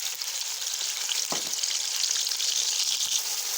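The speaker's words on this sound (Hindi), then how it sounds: "प्याज हमारा जो है वो हल्का हल्का ब्राउन होना शुरू हो गया है।" Onions fry in hot ghee in a kadai with a close, continuous hissing sizzle and a brief louder spatter partway through.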